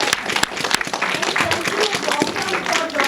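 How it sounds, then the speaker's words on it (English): Theater audience at a film festival bursts into sustained applause, dense clapping filling the hall with scattered sharper claps and a few voices mixed in. "Big round of applause for everyone."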